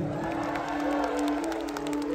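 Concert crowd at a show applauding and cheering steadily during band introductions, a dense continuous wash of clapping and shouts with a sustained tone from the stage underneath.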